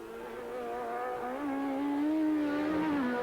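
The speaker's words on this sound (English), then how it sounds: "I can't help but think that there's something wrong with the exhaust. It's very, very noisy as it's coming past here" A racing sidecar with a noisy exhaust at the 1990 Donington Supercup sidecar race passes close by, its loud engine note rising and holding for a few seconds.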